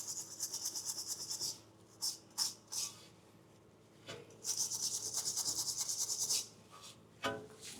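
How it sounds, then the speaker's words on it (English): A wire brush scrubs a front brake caliper on a Land Cruiser 200 Series / LX570, heard as close rhythmic scraping strokes in several bursts with short pauses between them. "I'm just going to take a wire brush and clean that up"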